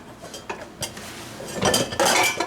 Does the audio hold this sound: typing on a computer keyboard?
no